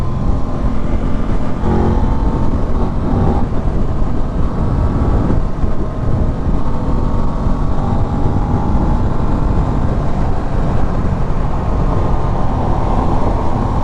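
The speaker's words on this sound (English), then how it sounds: "you can definitely hear the engine though" An Aprilia motorcycle engine runs steadily with its exhaust removed, a low, droning rumble and no sharp exhaust note, constant and loud throughout.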